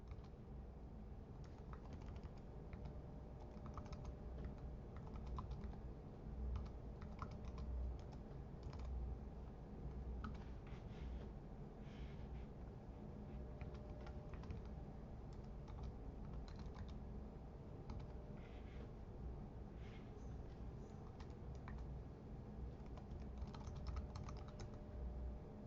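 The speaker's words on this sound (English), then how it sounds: "So I'll go ahead and start typing these in." Continuous typing on a computer keyboard, quiet and close, with rapid irregular key clicks running throughout and no talking.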